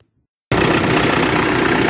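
A 1958 Oliver 550 diesel tractor engine cuts in abruptly after a moment of silence, then idles with a loud, steady, dense rumble.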